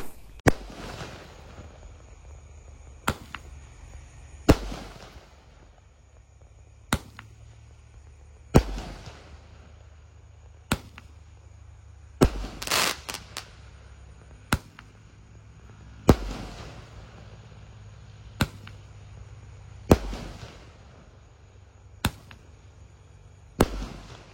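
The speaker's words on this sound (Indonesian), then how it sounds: "Sudah menyala Roman candle 1 inci. Siap meluncur." Sharp pops from a 1-inch Roman candle firework launching shots into the night sky, spaced every second or two, loud and close against a quiet outdoor background.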